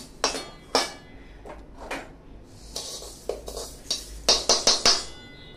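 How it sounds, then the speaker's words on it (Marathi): Roasted urad dal scooped out of a pan into a pot, heard as a series of sharp metallic clinks and scrapes of a spoon against cookware, spaced irregularly and closer together toward the end, with no talk. "ही डाळ आपण काढून घेऊया पातेलीत."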